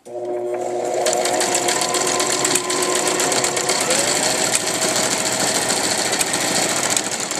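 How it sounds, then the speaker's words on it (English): A sewing machine runs a zigzag stitch to join elastic ends for a gathered skirt. Its motor whirs loud and continuous from start to finish, with a fast rattling needle rhythm and no pauses. "set your machine to a zigzag stitch and sew your elastic ends together"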